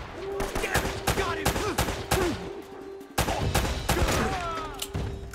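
Rapid 9mm pistol fire in Uncharted: Drake's Fortune, with a string of sharp, close shots in quick bursts, a short pause and then more shots, over a faint sustained musical tone.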